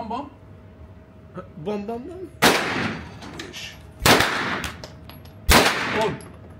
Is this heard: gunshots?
yes